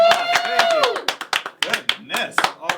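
Short burst of audience clapping and whoops at the start of a live gaming show episode, a loud scattered round of hand claps mixed with cheering voices, fading out after a couple of seconds.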